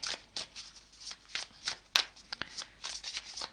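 Tarot cards being shuffled in a quiet room, a run of soft, papery riffles and slaps with a few sharper snaps, close and alone.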